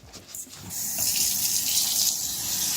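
Water runs steadily from a kitchen tap as rice is rinsed, with a few soft splashes at the start before the close, even rush of the flow.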